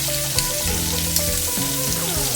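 Shrimp sizzles and crackles in a hot pan, a continuous close frying hiss with soft pops, no talking.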